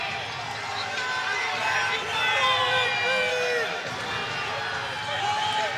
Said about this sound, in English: Crowd's calling for stalling.